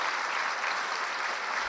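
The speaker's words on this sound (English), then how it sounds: "So let's give them, all the recipients this year, a round of applause." A room full of people applauds the Red Cross Hometown Heroes recipients at an awards ceremony, with steady, dense clapping that holds at an even level from start to finish.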